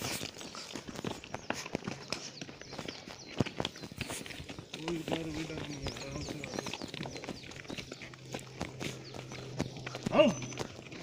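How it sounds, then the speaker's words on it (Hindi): Horses walking on a hill-station path near Shimla, uneven clip-clop of hooves mixed with footsteps and people talking nearby. "इधर है पूरा 200 घोड़ा।"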